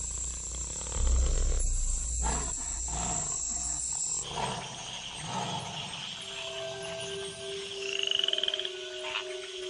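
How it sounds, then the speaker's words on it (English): Rough, rasping croaks of tree frogs gathering after rains, repeated in bursts over a dense, steady wash of night sound, with a few thin tonal calls later on. "In the wake of the rains, the tree frogs gather for bouts of communal coupling."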